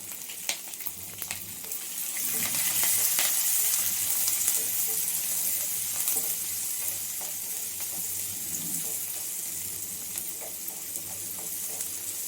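Sliced onion and tomato mixture for tomato chitranna fries in a pan with a steady, moderately loud sizzling hiss and occasional stirring scrapes.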